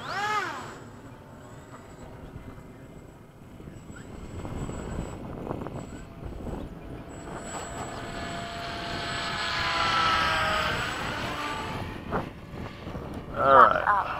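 A BAE Hawk jet trainer makes a full-stop landing with its engine running, a steady roaring whine that swells and fades over several seconds; a pilot talks over it.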